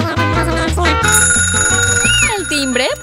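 A school bell rings in an animated classroom scene, a sustained bright ringing that starts about a second in and runs to the end, layered over music and cartoon voices.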